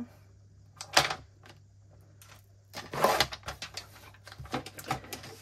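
Paper being cut with scissors or a trimmer, close, crisp rasping snips and crunching bursts in irregular bunches over a faint steady hum.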